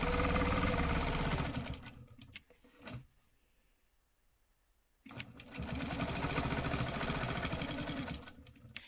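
Sewing machine stitching a quilt along a ruler, running in two loud sustained bursts with a pause of near silence between them.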